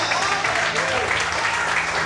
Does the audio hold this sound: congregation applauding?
yes